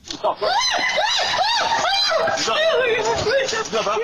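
A woman screams on a sidewalk as a gunman approaches in news footage: repeated loud, high-pitched wailing screams that rise and fall, with other agitated voices mixed in.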